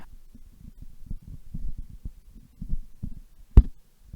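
Soft thumps and bumps from a Sennheiser e835 microphone being handled, irregular and low, with one sharper knock near the end.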